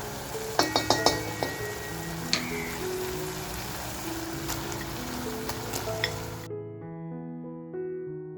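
Mutton dropped into a pan of fried ginger-garlic masala, a few clattering thuds at the start followed by a steady close sizzle, with music coming in near the end.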